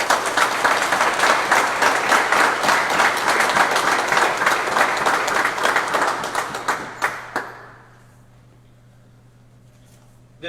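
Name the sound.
audience applause for volunteer kayaker at press conference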